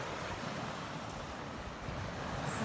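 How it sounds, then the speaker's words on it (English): Ocean waves pounding the shore outdoors, a steady loud wash of surf with wind noise on the microphone, no talking. "You can hear the pounding waves, which I'm going to show you in just a minute."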